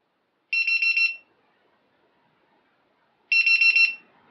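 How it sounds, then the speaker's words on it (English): An FPV drone's lost-model buzzer sounds two separate bursts of rapid, piercing electronic beeps about three seconds apart, with near silence between them. "that beeping noise you heard"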